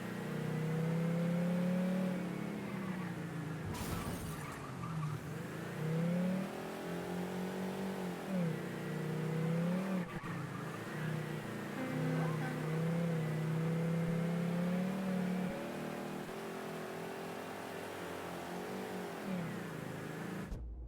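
A car engine revs and hums steadily while driving in the video game Mafia III, the pitch rising and falling with acceleration, with a brief burst of noise partway through and no talk.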